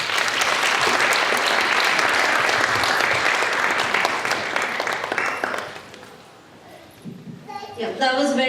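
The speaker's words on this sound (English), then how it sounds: "Can we have a huge round of applause for Anamitra's brilliant performance?" An audience at a cultural event marking International Mother Language Day breaks into dense, loud applause that fills the room for several seconds, then thins out as a voice begins speaking over the last claps.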